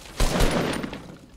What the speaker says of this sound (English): Oh, shooting.